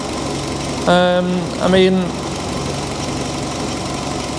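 A salvage-auction car's engine idles smoothly, a steady low hum running the whole time beneath a brief burst of nearby speech.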